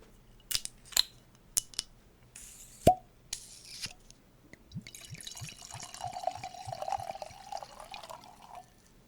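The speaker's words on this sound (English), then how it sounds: "that was a hearty pour." Isaribi Tokubetsu Junmai sake poured generously into a glass, a quick run of liquid glugs building to a steady splashing pour, preceded by a few sharp clinks and taps, close and moderately loud.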